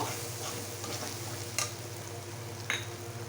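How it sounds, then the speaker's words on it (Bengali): A spoon of ghee sizzling in a pan as the contents are sautéed, a low steady frying hiss with two sharp spoon clinks against the pan, quiet and close. "দিয়ে দেবো এক চামচ ঘি করে আর একটু কষিয়ে নেব"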